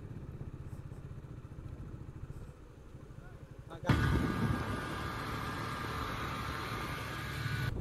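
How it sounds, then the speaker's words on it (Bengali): A motorcycle riding along Kuakata beach, its engine thrumming steadily, then a sudden loud surge of wind and road roar as the ride picks up. "এই মুহূর্তে কুয়াকাটার বিচে বাইক রাইড করছি"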